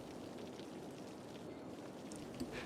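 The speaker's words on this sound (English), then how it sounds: "Wow, we're getting rain in the desert." Steady rain falls in a desert map of the Cities Skylines city-building game, an even low hiss of drops lasting throughout, faint and uninterrupted with no voices.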